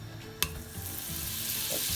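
Butter hits a hot pot of Goan-style beef stew with soft pork fat, giving a close steady sizzle and frying hiss after a small clink, which holds evenly with no talking.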